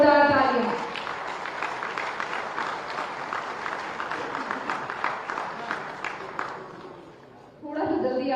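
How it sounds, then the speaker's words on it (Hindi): Sustained audience applause at a security leadership summit award ceremony, steady dense clapping for several seconds with voices murmuring underneath, dying away before a speaker resumes talking. "जोरदार तालियां।"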